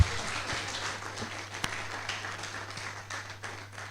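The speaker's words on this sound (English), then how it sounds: "Can we give her another round of applause?" A lecture audience at a talk on critical minerals gives quiet, fairly sparse applause, with some individual claps standing out against a low steady hum.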